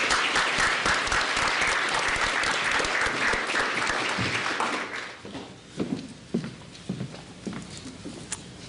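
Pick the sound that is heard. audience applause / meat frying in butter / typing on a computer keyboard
audience applause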